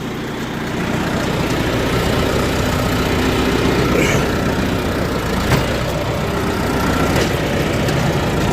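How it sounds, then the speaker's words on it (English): A winch spools in cable to drag a log out of the woods, with a steady mechanical engine-like drone that holds constant and loud throughout and has a few faint clicks over it. No one speaks. "So, let's test this winch."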